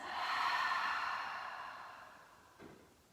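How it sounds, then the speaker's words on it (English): One slow, deep exhale during a yoga session, close and soft, breathy and fading gradually over about three seconds, with a faint short breath near the end. "Let's take a deep breath in and release."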